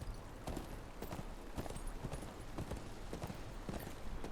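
Rhythmic clip-clop of horse hooves at a gallop in the Game of Thrones: KingsRoad video game, steady and fairly close, with game ambience beneath and no talk.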